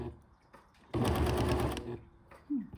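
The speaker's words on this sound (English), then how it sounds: "now I'll press all the way down on the foot pedal." A Pfaff Creative 1467 sewing machine runs at full speed for about a second, a loud steady mechanical whir, with a few slow stitches before it and quiet handling after.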